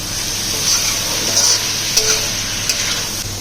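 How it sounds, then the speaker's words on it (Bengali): Banana flower sautéing in a pan with Kashmiri chilli powder, turmeric, salt and a little sugar, giving a close, even sizzle broken by a few light stirring scrapes and clinks, with no voices. "মশলাগুলো দিয়ে ভালো করে কষিয়ে নেব।"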